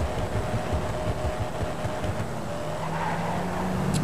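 A modified Honda City in GTA 5 at full throttle: a steady, loud engine roar that holds throughout, with faint tyre squeal and a rising engine tone near the end.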